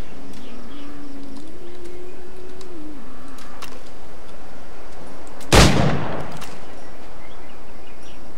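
A single sharp gunshot cracks out in Assassin's Creed IV Black Flag, one loud burst over a quiet game background with a soft tonal hum before it.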